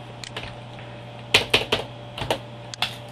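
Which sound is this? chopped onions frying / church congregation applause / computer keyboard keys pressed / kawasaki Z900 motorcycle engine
computer keyboard keys pressed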